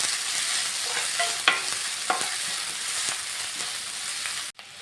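Urad dal and a chopped medium onion fry in a pan with a soft, constant sizzle, while a few sharp scrapes of stirring break through at intervals before a sudden cut to near silence.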